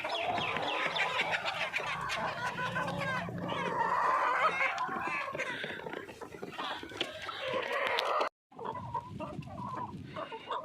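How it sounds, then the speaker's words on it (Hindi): Free-range desi village chickens cluck steadily and close up as they run around, busy overlapping clucks filling the scene, with a brief drop to near-silence before the flock noise resumes. "तो ये मुर्गियाँ मेरे आगे पीछे भाग रही हैं।"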